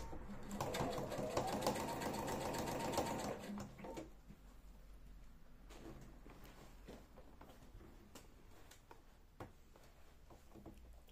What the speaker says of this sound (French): Et je viens coudre au bord du côté.